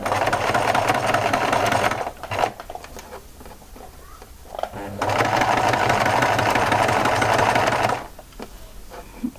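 A sewing machine topstitches fabric to close an opening, running in two steady, loud mechanical bursts with a quieter pause between them and a short stop at the end.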